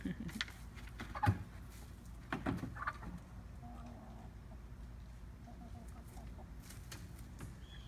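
Chickens cluck and squawk at each other in short scuffling bursts, fairly close, over a quiet outdoor background.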